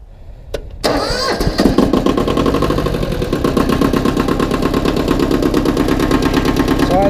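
Diesel engine cranking after glow-plug heating, catching within a second and settling into a loud, rough, steady idle with rapid rhythmic knocking pulses close by.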